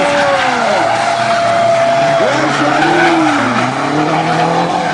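A drift car at a drift show throws its engine through throttle blips while its tires squeal in long, wavering howls, loud and close, with a brief voice commenting over it.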